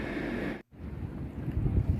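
Wind buffets the microphone on the second floor of Geobukseom Tower by the sea, a steady low rumble broken by a brief dropout, then gusting stronger again.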